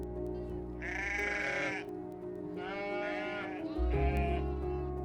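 Sheep on the windswept Faroe Islands bleat in three long, wavering calls, close and clear over a steady low wind rumble.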